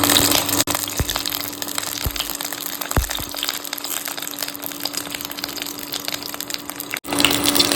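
Green chillies flipped and fried in a pan give a steady, loud sizzle with a few sharp knocks and crackles of the pieces being turned, running continuously throughout.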